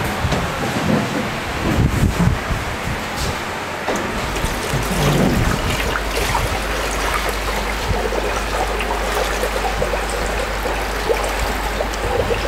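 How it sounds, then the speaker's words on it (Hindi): Plain water poured into a small portable soft-serve ice cream machine for a washing cycle, a steady trickling splash with a low hum running underneath throughout, close and fairly loud. "ये आप देख सकते हैं यहाँ पे हम पानी डाल रहे हैं।"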